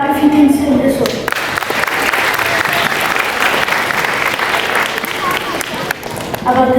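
An audience claps steadily through a stage guessing game at a Las Vegas show, a dense, loud burst of applause with crowd voices mixed in near the start and end.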